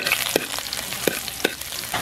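Garlic sautés in a pan of hot oil, a steady crackling sizzle broken by a few sharp stirring scrapes, close and fairly quiet.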